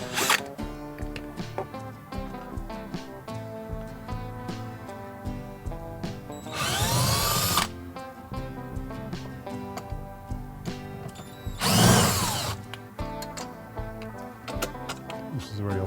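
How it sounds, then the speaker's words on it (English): Power drill working on BMW 3 Series seat parts during a leather replacement, heard as two short, loud whirring bursts over steady background music. "And you can use a drill if you want. That's what I'm going to do"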